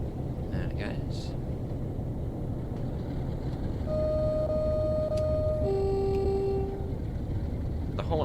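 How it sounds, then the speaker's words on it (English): A quiet train horn in Train Sim World 3 sounds on a Special Class 47 drag on Southeastern High Speed, two soft sustained tones one after another over a steady rumbling engine and rail noise. "The horn on this train's really quiet though."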